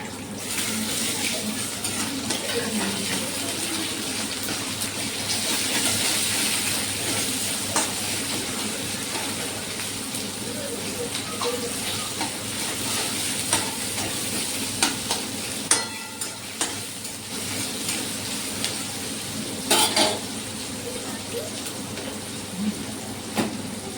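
Onion and tomato frying in a pan, a steady sizzle with stirring and occasional scraping clicks throughout, no talking over it.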